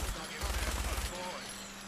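A minigun fires in Fallout 4, a dense rapid burst of gunfire over roughly a second before cutting off, loud and close with game ambience continuing afterward.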